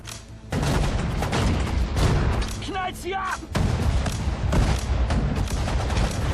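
Anti-tank grenades and battle fire in the World War II strategy game Sudden Strike 4, set at Tobruk: dense rolling bursts of explosions and gunfire, loud and continuous, with a brief shouted voice in the middle.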